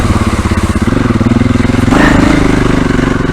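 A dirt motorcycle grinds up and over slippery, off-camber rocks, its engine note chugging steadily close by before climbing as it powers away in third gear on a steady throttle, clattering slightly.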